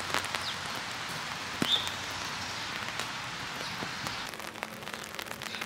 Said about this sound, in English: Another rainy day in Brooklyn.